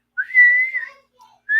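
A person whistling a short rising then sustained tone, close and clear, followed by a brief softer note and the start of another whistle, with no talking.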